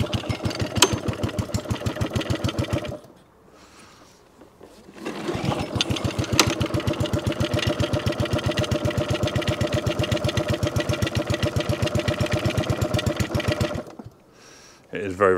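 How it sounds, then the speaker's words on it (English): A ride-on lawnmower engine (SV RV 150) runs steadily with a buzzing, rapid rhythm, revving uncontrollably and cutting out briefly twice before restarting; loud and close, with no talk over it. "It may be revving its head off."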